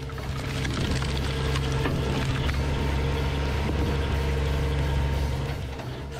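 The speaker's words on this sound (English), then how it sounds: "The Multitech 1616 Izzy firewood processor is designed to process rough logs up to 50 centimetres in diameter" A Multitech 1616 Izzy firewood processor with a 25 horsepower Yanmar diesel engine drones steadily and loudly, a rough continuous engine rumble with no voices.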